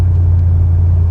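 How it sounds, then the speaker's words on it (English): A truck rolls along close by with a loud, steady low engine rumble and a constant drone, without any voices. "Here we have Nesmul's truck just rolling on its way with us"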